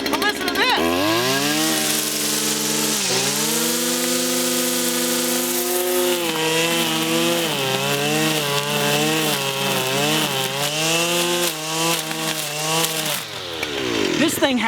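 A Stihl FS 251 R two-stroke string trimmer engine runs steadily close by, a loud buzzing drone that rises and falls in pitch as the throttle is worked, then drops away at the end.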